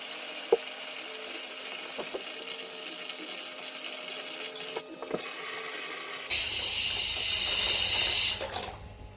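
Tap water runs steadily into a bucket being filled for a home fish tank, a continuous hiss. Near the end it grows louder and brighter as the flow strengthens, then it cuts off.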